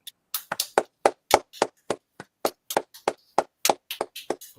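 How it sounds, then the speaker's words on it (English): A small group clapping for two show winners, Laura and Margaret, on The Cannon & Jonezy Show: sparse, close, distinct individual claps in an uneven rhythm, with no talking. "round of applause for the 2 winners, Laura and Margaret"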